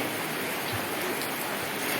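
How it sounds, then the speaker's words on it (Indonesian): Rain falls steadily outdoors during a gathering, a constant soft hiss of drops on surfaces with no voices. "Apalagi ini adalah turun hujan"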